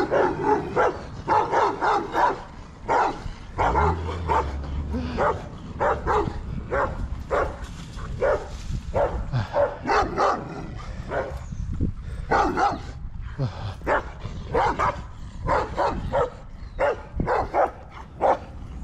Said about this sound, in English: A lot of dogs over here. A lot of dogs.